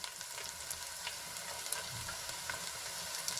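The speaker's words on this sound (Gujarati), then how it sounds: "ટમેટા એડ કર્યા બાદ આપણે સરસ રીતે ડુંગળીમાં મિક્સ કરી લેવાના છે" Tomatoes being stirred into golden fried onions in a pan make a steady broadband sizzle, with soft scraping stirs rising over it now and then. The frying sound is close and continuous, with no voices.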